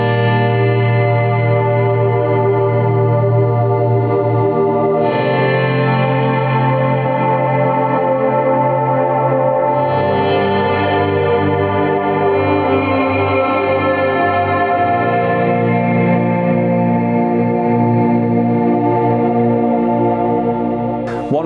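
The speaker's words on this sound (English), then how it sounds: "let's then bring back in the digital delay. Let's bring in the El Capistan tape echo." Ambient electric guitar swells layered through a digital delay and an El Capistan tape echo, sustained and loud throughout, with chords shifting every few seconds into a thick, washed-out wall of repeats and no talking.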